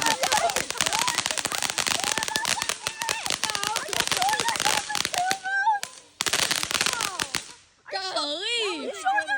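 Fourth of July fireworks and firecrackers go off in dense, rapid crackling bursts, loud and close, broken by short pauses while people talk excitedly nearby.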